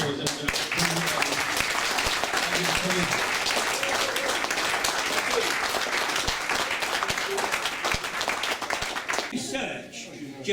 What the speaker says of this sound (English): we'll give him one more round of applause